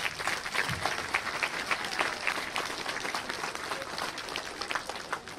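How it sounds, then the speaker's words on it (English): Outdoor crowd at a school ground-breaking ceremony claps for dancers, a sustained, even round of applause from many people, moderately loud and continuous, with no one speaking over it. "let's give them another round of applause."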